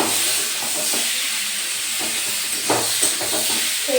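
Oil sizzles steadily in a pan on a home kitchen stove where whole cumin seeds are frying for a Bengali fish curry, a constant close hiss with a few soft crackles.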